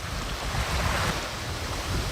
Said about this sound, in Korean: 파도가 밀려올 때 일단 떠밀려 가기는 하지만